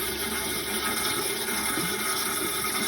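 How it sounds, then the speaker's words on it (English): Pressurised water gushes through the radiator of a 1955 Buick with a Nailhead engine, flushing out rusty, dirty water in a loud, continuous rushing spray without pause. "Turn the pressure up a bit. We're starting to get some dirty water out of it now."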